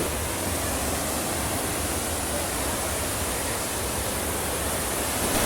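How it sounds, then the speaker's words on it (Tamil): Fast-flowing water pouring at a waterfall in Sri Lanka, a dense continuous rushing roar with no breaks, steady and fairly distant, with no voices. "இந்த நீர் வேகம் ரொம்பவே ஃபாஸ்ட்டாக இருக்குது"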